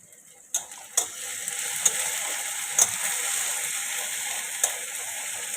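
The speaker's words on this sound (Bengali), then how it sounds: "এটা ভাজা ভাজা হচ্ছে বন্ধুরা" Vegetables and spice paste frying in a pan for tangra fish curry, a steady bright sizzle that starts after a short quiet moment and carries on, broken by a few sharp clicks of a stirring utensil.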